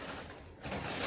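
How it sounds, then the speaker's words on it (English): Crinkling plastic wrapping handled while unboxing an iPhone 13 Mini, a brief, faint, close rustle that swells slightly toward the end. "And I'm sorry for the noise of the plastic"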